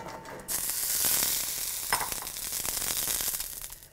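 Peppers hit a very hot, dry cast iron skillet over high heat, bursting into a loud searing hiss that holds steady, with a brief scrape of movement partway through.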